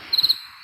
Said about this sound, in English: Ooh, crickets.